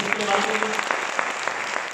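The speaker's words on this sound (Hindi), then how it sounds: "ताली जोरदार हो जाए।" Brief burst of enthusiastic clapping from an audience at a business meeting, loud and dense, with a voice talking over the start.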